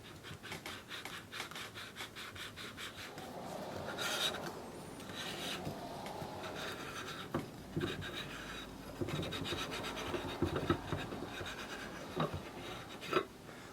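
Back-and-forth rubbing and rasping of a rifle barrel being lapped into the receiver threads with lapping compound, a steady gritty scraping that swells in bursts, close and moderately loud, with no talking.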